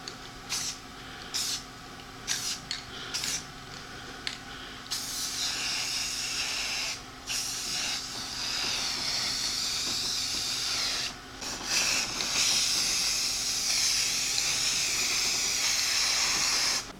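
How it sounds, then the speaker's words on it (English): Spray paint cans hissing in a cold garage, with repeated short bursts followed by longer continuous sprays, close and steady, with no talking. "let's get spray painting"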